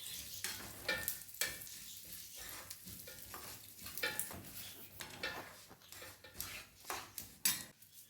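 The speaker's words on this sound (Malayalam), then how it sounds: "ആ എള്ളും എല്ലാം ഒന്ന് പൊട്ടി വരുന്നത് വരെ ഒന്ന് വറുത്ത് കൊടുക്കാം." Sesame seeds roast in a hot pan with a soft, continuous sizzle and crackle, broken by repeated scraping strokes of a spoon stirring the seeds against the metal, close and quiet, with no talking.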